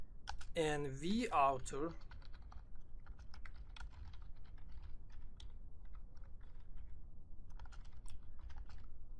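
Fingers type on a computer keyboard, writing PL/SQL code, in a quick, irregular patter of close key clicks; a voice speaks briefly at the start, then the clicking continues alone.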